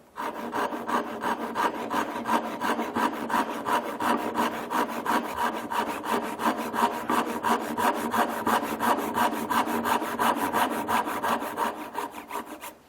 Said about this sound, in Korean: 제가 자세 똑바로 해서 톱질 할게요